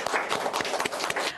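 Audience applause for little Gargi and her small sister on a Marathi TV game show: dense, steady clapping that holds at an even level for the whole stretch, with no talking over it.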